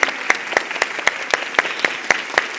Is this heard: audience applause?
yes